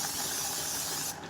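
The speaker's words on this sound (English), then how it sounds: "Got some vegetable oil spray." Vegetable oil cooking spray hisses from a can in one continuous close burst lasting about a second before stopping.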